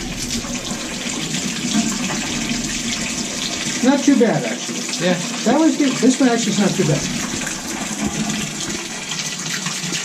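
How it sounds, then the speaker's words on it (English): Rushing water from an old toilet flushing runs steadily in the background while someone talks over it nearby. "So now watch this when I flush the toilet."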